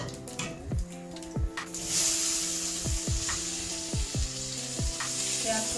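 Onions fry in a pan with asafoetida and five-spice seasoning for a bottle gourd and chana dal dish. A soft, continuous sizzle carries a run of regular, ringing metallic taps close by.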